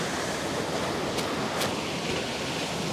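Water waves washing against the shore of the Ghent-Terneuzen ship canal, a continuous broadband surf wash, close and steady without any voices.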